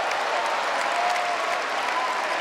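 A basketball crowd at an ASEAN Basketball League game breaks into loud, sustained applause after an offensive foul, the clapping dense and even throughout.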